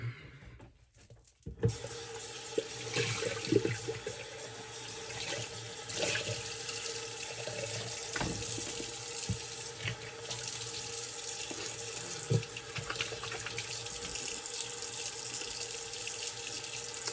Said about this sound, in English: Okay, let's rinse that off, see where we're at.